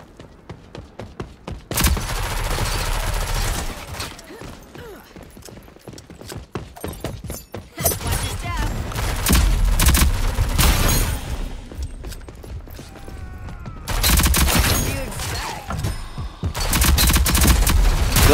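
Gunfire in the video game Rogue Company comes in repeated loud bursts of rapid shots, separated by brief quieter gaps full of clicks and scattered single shots.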